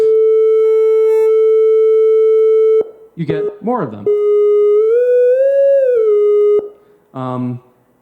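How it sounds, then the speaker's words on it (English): A pure synthesizer sine-wave tone holds steady, then a voice speaks briefly before a brighter, buzzier triangle-wave tone bends upward and settles. "when I go from a sine wave to a triangle wave,"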